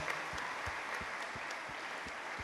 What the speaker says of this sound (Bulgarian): Аплодисменти за нашето много уважавано жури